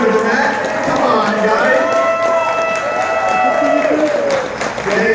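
A crowd applauds and cheers at a 65th birthday retirement party, with loud sustained clapping and whoops that go on throughout while a voice on a microphone speaks over the noise.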